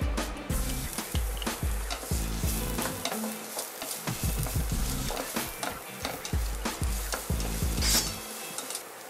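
Garlic sautéing in hot oil for chicken tinola makes a continuous sizzle, broken by frequent scraping and clacking of a utensil stirring in the pan. Nobody speaks.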